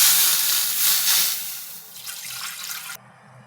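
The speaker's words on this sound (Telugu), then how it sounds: "స్టవ్ ఆన్ చేసి కడాయి పెట్టుకొని వాటర్ వేసుకోవాలి." Water pours steadily into a kadai on the stove for boiling pasta, a close, continuous splashing rush that cuts off abruptly after about three seconds.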